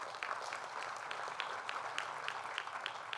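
Steady applause from an audience at a 9/11 informational seminar held at Borough of Manhattan Community College, moderately distant, with a few sharper claps poking through the even patter.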